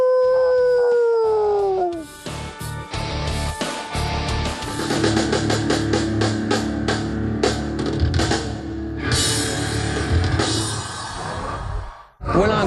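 A wolf howl rises and then slowly falls as one long, loud, clear wail. It is followed by a dense stretch of busy, noisy sound.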